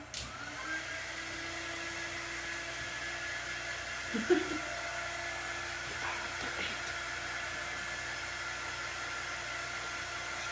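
A hair dryer runs steadily at close range, blowing on a mug to dry a transfer design, a continuous even whir held for the whole stretch with a few small knocks partway through.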